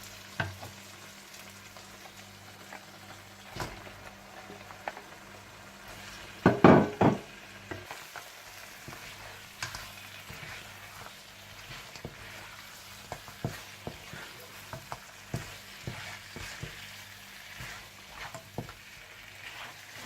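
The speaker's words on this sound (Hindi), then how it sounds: "दही मिलाने के बाद आप इसमें मटन चाप्स डालकर अच्छी तरह से भून लें।" Mutton chops frying with yogurt and spices in a karahi. A soft, steady sizzle sits under scattered spoon scrapes and taps, with one louder clatter partway through and no voices.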